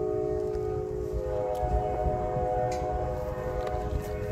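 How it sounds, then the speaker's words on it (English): A CSX freight train rolls steadily past close by near a rail yard, with a deep continuous rumble and a sustained metallic whine over it. No one speaks. "The train's still going"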